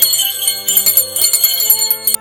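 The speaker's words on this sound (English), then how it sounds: "we ring our bells, don't we?" Many small handbells ring together during a family Christmas Eve service, bright overlapping jingling peals rising and falling in uneven bursts, loud and close.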